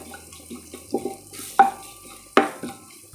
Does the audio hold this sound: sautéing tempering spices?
yes